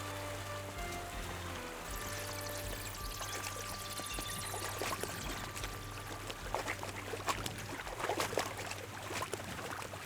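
River water rushes in Kingdom Come: Deliverance II, where a usually small stream has risen, making a steady broadband pouring and gurgling flow that sits close and continuous for ten seconds with a few sharper splashes near the end.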